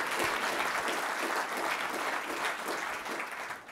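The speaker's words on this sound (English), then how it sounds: "So a round of applause for Peter and his team," Audience applause at the opening of the Halifax International Security Forum 2017 for Peter von Praagh and his team, dense even clapping from a large crowd heard at moderate distance, fading slightly toward the end.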